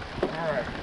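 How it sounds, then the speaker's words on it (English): Heavy rain pours down during a catfishing trip at anchor, a brief, faint, steady hiss of drops on the surface. "it's pouring down the rain"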